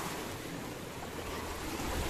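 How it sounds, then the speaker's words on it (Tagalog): Sea waves surging onto a beach at Kabiang tunnel in Batangas, a continuous broad wash of surf with wind noise buffeting the microphone, steady and fairly loud with no voices. "Sabi, lakas ng alon."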